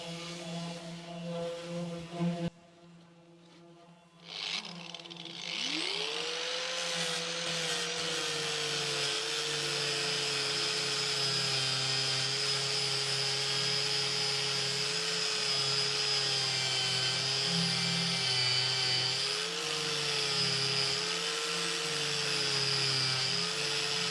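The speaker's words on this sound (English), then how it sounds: "All I'm doing is running the grinder up the outside of the weld to make sure that there's a good V there for me to weld into" An angle grinder runs along the outside of a weld on an abandoned steel boat. Short rough bursts are followed by a spin-up into a loud, close, sustained whine that holds steady for the rest of the clip.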